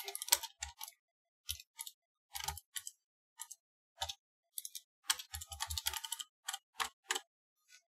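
A keyboard clacks in quick bursts as a command is typed into a PowerShell prompt. The keystrokes are crisp and close, fall in irregular clusters with short pauses between them, and play alone without voices.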